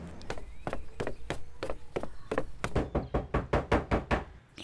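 Someone knocks on a wooden door in the visual novel Doki Doki Literature Club, a long run of sharp knocks in uneven bursts that grow quicker and louder toward the end, with no talk.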